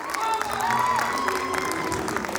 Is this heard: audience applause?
yes